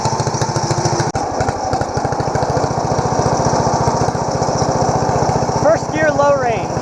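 A small engine on an off-road lawn mower build, after a pulley swap, idles steadily with a fast, even chugging pulse. It stays loud and close, and a brief whine rises near the end.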